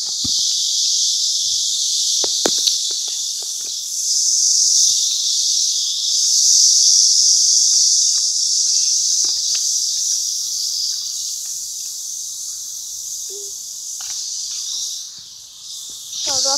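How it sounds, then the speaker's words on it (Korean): Cicadas drone in a loud, continuous high buzz throughout, with occasional faint footsteps and scuffs beneath. "매미 소리 참"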